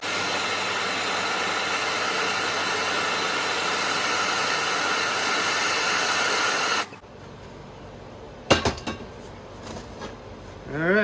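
A torch heating a metal spindle on a Yazoo-Kees zero-turn mower deck gives a steady loud roaring hiss for about seven seconds and then cuts off, followed by a few close metallic clanks and knocks.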